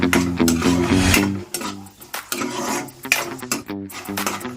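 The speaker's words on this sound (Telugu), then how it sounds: "ముందు వేరుశనగ గుళ్ళు అయితే ఫ్రై చేసుకోవాలి రూమ్లో మీడియంలో పెట్టి వేయించుకోవాలండి" Peanuts being dry-roasted in a pan over medium heat, with rattling, scraping stirring strokes and clattering nuts close up, coming in uneven bursts.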